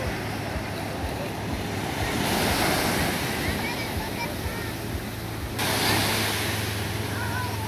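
Ocean surf rolls and breaks continuously at Carrizalillo beach, Puerto Escondido, during a children's surf tournament, a broad roaring wash of waves with wind noise buffeting the microphone and surges of louder breakers.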